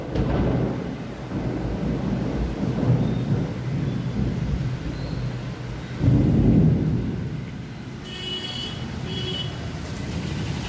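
Thunder follows a lightning flash in a stormy evening sky. A low rumble rolls and swells over traffic noise, with a stronger burst partway through.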